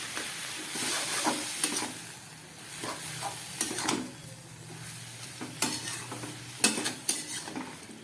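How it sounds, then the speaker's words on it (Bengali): Pumpkin greens being stirred in a pan with coriander powder and turmeric: repeated scraping strokes of a spoon against the pan over a low, steady sizzle, close and moderately loud, with no talking. "ধনের গুঁড়ো আর হলুদ দিয়ে খুব ভালো করে আমি কুমড়ো শাকটাকে নেড়ে চেড়ে নিলাম।"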